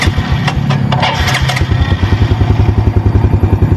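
A used motorcycle engine starts and settles into a fast, even idle, with a loud clattering burst at ignition giving way to a steady rhythmic thrum close by.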